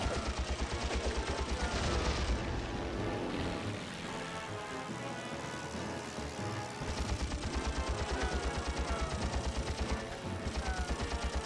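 A Catalina gunner firing at a Zero fighter in Heroes of the Pacific, a continuous rattling machine-gun stream over a heavy aircraft engine drone, pausing briefly before resuming loud and steady.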